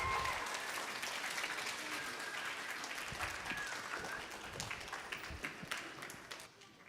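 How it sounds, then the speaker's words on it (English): A kids camp crowd gives another round of applause, a soft, distant wash of many hands clapping that continues for several seconds, with a few sharper individual claps standing out toward the end. "Give him another round of applause."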